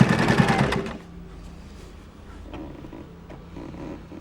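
A sewing machine stitches along a fabric edge, running loudly with a fast steady rattle for under a second before stopping, leaving only faint handling noise.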